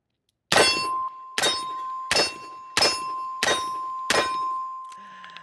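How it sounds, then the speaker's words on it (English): A revolver fires .38 Special rounds at steel targets: six evenly spaced, loud sharp shots, each followed by a ringing metallic clang of the struck steel, with a brief quiet after the last. "Shooting 38 special right now."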